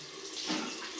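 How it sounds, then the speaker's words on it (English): Hot water running from a bathroom tap into a sink while the face is wetted before shaving, a short, soft, steady splashing stream heard alone. "I've just come out the shower, so I'm just gonna wet my face. Hot water, or warm"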